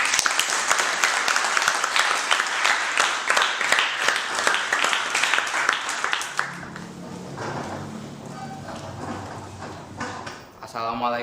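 A classroom audience claps for a student group that has just finished presenting, a dense crackling burst for about six seconds that then gives way to talking.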